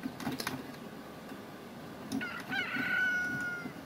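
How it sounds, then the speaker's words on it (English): A rooster perched on a barn crows once in the city-building game Tropico 4, a short, moderately loud cock-a-doodle-doo near the end, rising over faint clucks and low game ambience, with no speech. "Oh, there's a rooster on this barn."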